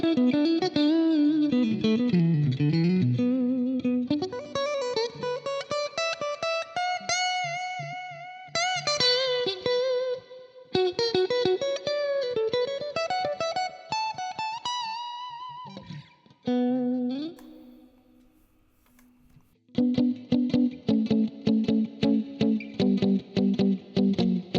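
A Yamaha Pacifica electric guitar plays sustained melodic lines and chords through distortion, chorus and reverb effects, loud and continuous, with a brief quieter decay before a final run of strummed chords.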